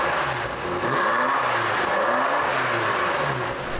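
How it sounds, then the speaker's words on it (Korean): A BMW M5 Competition's exhaust roars through repeated rev sweeps, its deep engine note rising and falling in waves, loud and close with no talking. "BMW의 M5 컴피티션 야 배기음 정말 멋있지 않나요?"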